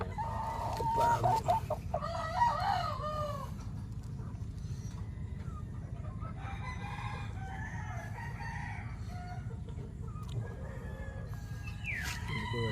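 A four-month-old red Kelso rooster crowing near the start, followed by scattered clucks and softer calls, at moderate distance over a steady low background rumble with no talk.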